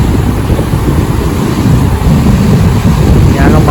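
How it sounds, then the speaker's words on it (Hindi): Foamy sea waves washing up onto a rocky shore in summer heat, a loud continuous rushing surf mixed with strong wind buffeting close to the microphone. "देखो देखो ये वेव आ गया यहाँ तक"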